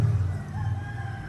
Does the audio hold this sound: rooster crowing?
yes